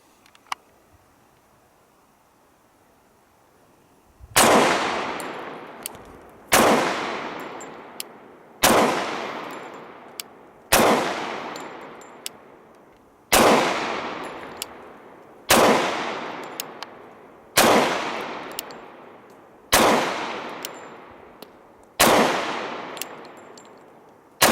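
Shots from a SIG Sauer P227 SAS and a Glock 30 pistol, fired outdoors: about ten loud single reports spaced roughly two seconds apart, each with a long ringing decay, after a quiet start.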